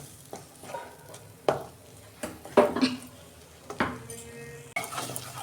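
Spice paste for a stuffed bitter gourd filling is stirred in a pan, giving a few sharp scraping and clinking strokes of a spoon against metal spaced over a low, steady sizzle, close and moderately loud with no talking.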